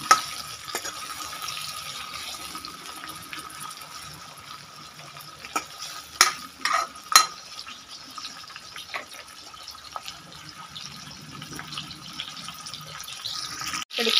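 Chopped onions frying in a pan for a rassa bhaji curry, stirred with a utensil: a soft, steady hiss of hot oil with a few sharper scrapes and clinks of the spoon midway, fairly quiet, no talking.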